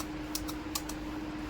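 A few sparse keystrokes on a computer keyboard while entering data into Tally accounting software. Four quiet, separate clicks sound over a steady low electrical hum.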